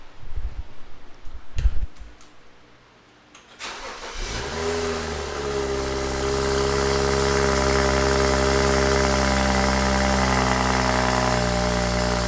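A BMW 535i (F10) with an N55 engine and a catless downpipe cranks and fires up, revving briefly before settling into a loud, steady idle heard close to the exhaust.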